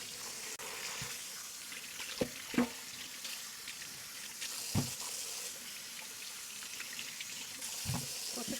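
Cold tap water runs steadily into a sink as chicken pieces are unwrapped from their packets and rinsed, a continuous close splashing wash with a few soft clunks and knocks.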